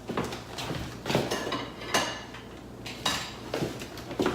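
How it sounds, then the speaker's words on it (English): Knife and fork clinking and scraping on a plate holding a cooked keto ribeye steak, a series of irregular sharp metallic taps and clatters close by, with no talking. "Grab a knife and a fork."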